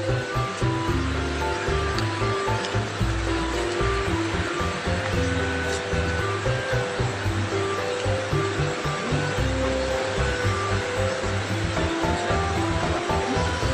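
Gurgling river water in a quiet, remote Javanese village deep in the forest, a steady continuous wash of flowing water filling the whole stretch at moderate loudness with no talk over it.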